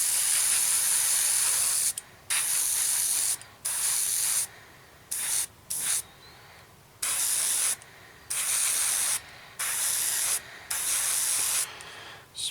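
Several short bursts of aerosol spray paint hissing onto a 1/32 scale RE.8 biplane model kit, each lasting about a second with brief silent gaps between them, close and fairly loud.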